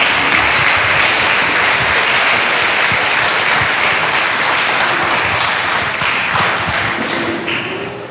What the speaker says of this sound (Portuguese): uma salva de palmas para todos os grupos agora